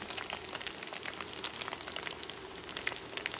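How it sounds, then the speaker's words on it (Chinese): Egg-coated tofu skin, dusted with starch, fries in hot oil in a wok over medium heat, producing a loud, busy crackle of sizzling and popping spatters that continues steadily. "开中火来煎"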